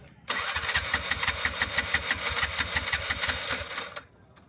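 A tuk-tuk engine that had broken down in the desert cranks and catches, then runs for about four seconds with a loud, steady, pulsing rattle before cutting off abruptly.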